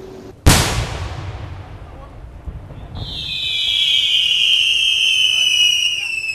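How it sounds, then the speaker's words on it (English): Fireworks shells launched at a fireworks show: one sharp, loud launch thump rings out and decays over a few seconds, followed by a rising whistling shriek from a shell climbing overhead, heard alone without talk. "the shells that get fired"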